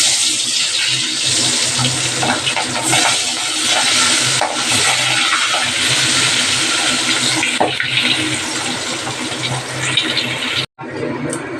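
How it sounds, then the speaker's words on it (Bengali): Fish pieces rubbed with salt and turmeric fry in hot oil, giving a loud, steady, close sizzle that hisses continuously and cuts off abruptly near the end, with no talking. "মাছগুলো ভাজা হয়ে গেছে"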